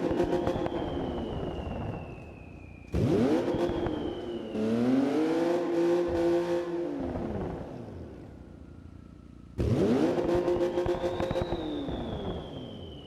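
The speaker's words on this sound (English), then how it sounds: "I wanted to show you off my exhaust." A 1968 Ford Mustang exhaust revved hard in a garage, three loud rising and falling blips bouncing off the rev limiter with a steady idle rumble in between, no talking.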